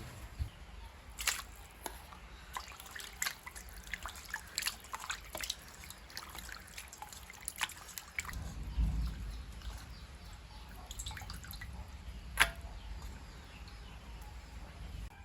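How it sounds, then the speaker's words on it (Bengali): Water dripping and trickling while raw chicken pieces are washed, with scattered soft drips and small splashes at close range, fairly quiet, plus a brief low thump partway through and no talk. "তো এখন আমি মাংসগুলি একটু ধুয়ে নেব।"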